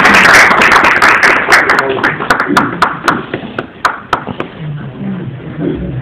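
An audience at a lecture breaks into loud applause that starts as a dense burst of clapping and thins out into scattered individual claps, with voices mixed in.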